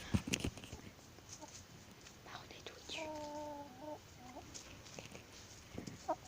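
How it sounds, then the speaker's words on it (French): Backyard hens give a brief soft clucking call among faint rustling and quiet handling noises, recorded close but at low level with occasional whispered talk. "Une belle poule, hein."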